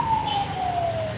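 An ambulance siren near Diani Beach, Kenya sounds a steady wailing tone that slowly falls in pitch as it passes, with a low road and traffic rumble beneath.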